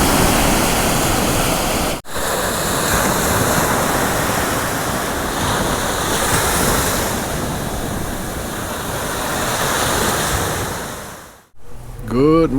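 Gulf surf rolling onto a Naples, Florida beach at sunset, a loud, continuous broadband wash with wind noise, cut by two abrupt dropouts and ending with a brief muffled handling noise.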